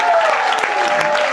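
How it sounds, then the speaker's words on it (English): Applause from a comedy audience on a cruise ship, a loud, dense burst of clapping heard close up with crowd noise mixed in. "clap it up for them"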